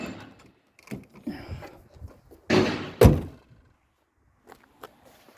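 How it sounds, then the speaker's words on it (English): A single heavy thunk of a 2014 Ford Focus 1.6 bonnet slamming shut, preceded by a few quieter clicks and shuffles, then near silence. "Just going to drop the bonnet again."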